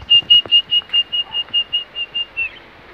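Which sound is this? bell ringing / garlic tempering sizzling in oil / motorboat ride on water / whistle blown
whistle blown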